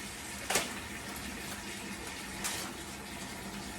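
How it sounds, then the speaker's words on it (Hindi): Steady rush of running water while white clothes and trousers are hand-washed, a continuous broad hiss at moderate distance with a couple of brief splashes standing out. "इसको भी धो देती हूँ"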